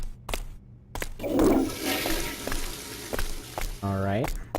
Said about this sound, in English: And why are the toilets flushing?